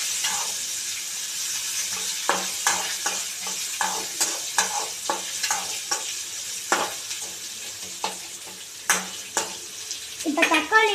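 Onions and dal frying in a pan for chutney, a bright sizzle punctuated by repeated sharp spatula scrapes and taps at uneven intervals, closer and busier near the end.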